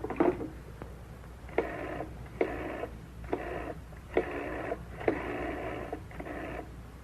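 A telephone being dialed, heard as a quiet series of short, evenly spaced bursts with brief gaps between them. No voices are heard over it.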